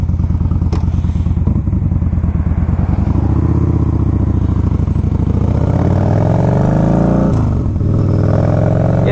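A 2014 Yamaha Bolt motorcycle engine runs loud and close while riding, a steady clattering V-twin drone that rises and falls with throttle changes, dipping briefly near the end before pulling again.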